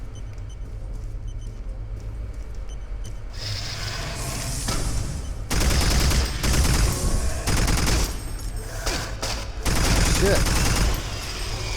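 An automatic rifle in Doom 3 VR fires in several loud bursts over a droning low background hum, with heavier clusters of shots toward the end. A man briefly mutters.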